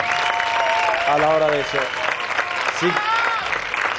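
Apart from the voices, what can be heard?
audience applause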